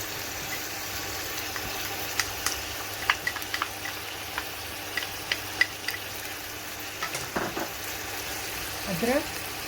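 Meat with spinach and potatoes frying in a pan gives a low steady sizzle, with scattered light clicks and scrapes of stirring and a faint murmur of a voice near the end.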